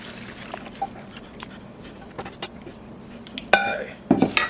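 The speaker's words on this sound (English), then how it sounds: "we're going to put this into the strainer" Baked chicken and its broth are tipped into a metal strainer, with faint clinks and a few sharper clattering knocks building to a splashy pour at the end, close and fairly quiet.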